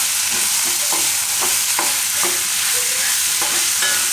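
Moong dal upma with tomatoes and ghee cooking in a pan, a loud continuous sizzle broken by regular spoon scrapes and taps as it is stirred, with no voices.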